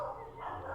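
Pet dog Mochi gives short, high yips close to the microphone, with a voice talking over them.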